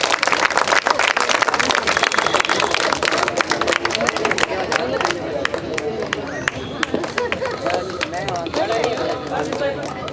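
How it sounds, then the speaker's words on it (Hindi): An audience claps for the first runner-up at a charity walk event, loud dense applause sustained throughout with crowd murmur and some voices mixed in. "जोरदार तालियां।"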